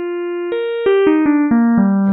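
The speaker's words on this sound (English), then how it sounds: "it's just adding sine waves together" A clean Elektron Digitone FM synthesizer tone, sine waves with added partials giving bright overtones, steps downward in pitch through several sustained notes, each change marked by a soft click.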